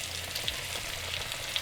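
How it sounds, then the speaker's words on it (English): Breaded sea trout sizzles in very hot oil, a steady bright frying crackle with occasional pops, close and continuous with no talk. "So we're gonna get to frying. This oil is very hot"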